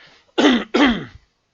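Two quick, loud coughs, one right after the other, close to the microphone, followed by silence.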